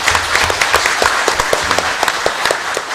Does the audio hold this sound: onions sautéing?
no